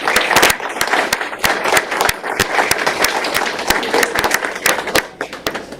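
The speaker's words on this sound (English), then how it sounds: "So let's give her a round of applause." An audience claps together at a Montgomery County Board of Commissioners meeting, a steady, fairly loud burst of many hands that carries through the whole stretch before tapering slightly at the end.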